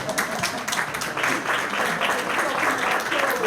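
A conference audience at a women's financing forum applauds in a steady, moderately loud patter of many hands clapping, with no talking over it.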